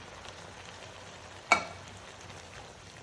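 Canned tomatoes dropped into a hot pan give one sudden loud splash-sizzle, then a soft steady frying hiss continues quietly on its own.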